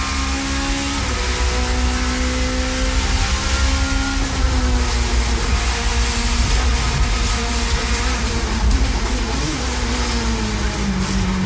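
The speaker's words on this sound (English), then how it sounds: "now listen to Hoy's exhaust note" Hoy's touring car from the 1990s touring car championship roars along at sustained full throttle, its exhaust note rising and shifting in pitch, with a commentator speaking over it.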